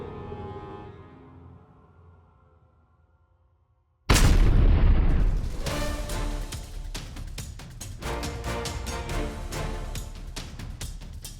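An explosive device detonates near a building in a combat setting. A sudden loud blast cuts through a fading rumble, and the roar of the explosion with rolling debris follows, slowly easing over several seconds.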